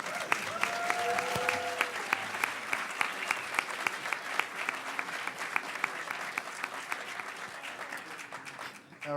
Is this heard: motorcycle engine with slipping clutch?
no